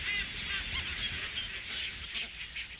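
A dense tern colony calls on the coral of Clipperton Island, many harsh, overlapping bird cries forming a continuous raucous chorus at moderate distance with no voices.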